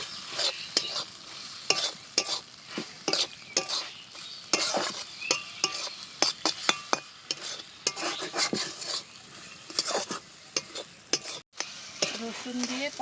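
Garlic pointed gourd mash with rice flour is stirred in a pan, a spatula scraping and tapping in an irregular rhythm over a soft, close sizzle.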